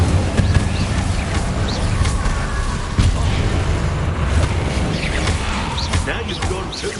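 An Incendio fire spell is cast in Hogwarts Legacy, a loud sustained roar of whooshing flame with booming bursts layered under a character's shouted dialogue.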